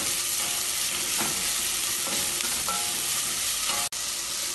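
Vegetables and green peas are stirred and sautéed in a hot pan for samak rice pulao, a steady sizzle with scattered scraping clicks from the spoon, close and alone, with a short dropout near the end.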